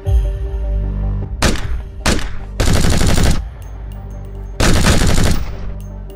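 Bursts of gunfire in a homemade amateur film: loud rapid volleys in four separate blasts, the longer ones sustained like automatic fire, with short gaps between them and no talk.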